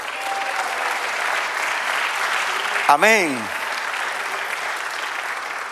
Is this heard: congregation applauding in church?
yes